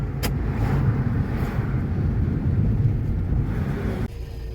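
Steady low rumble of a car interior while mum drives on the way to a picnic, a continuous engine and road drone close and even throughout, with a brief dip near the end.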